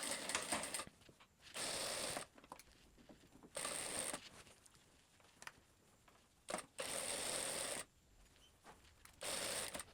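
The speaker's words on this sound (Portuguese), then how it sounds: "E aqui eu vou fazer uma costura com 1 centímetro de margem" Sewing machine stitching a skirt waistband seam with a magnetic seam guide, several short whirring bursts of about a second each separated by quiet pauses and small handling sounds, close and soft.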